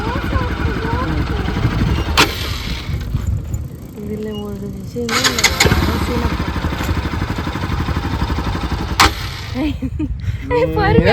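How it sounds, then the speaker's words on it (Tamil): A motorcycle engine runs steadily as the clutch is released and the accelerator is gently applied, a continuous mid-level drone that carries on beneath nearly constant talking. "கிளச்சு விடு, ஸ்லோவா கிளச்சு விடு, ஸ்லோவாக கிளச்சு விடு. வண்டி மூவ் ஆகும்போது ஆக்சிலேட்டர் லைட்டாக கொடு"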